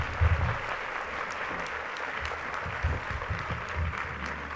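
An audience applauds steadily at an honorary tribute ceremony for Dr. Pablo Sandoval Cruz at IPN. The sustained, dense clapping fills the room without pause, with a few louder swells.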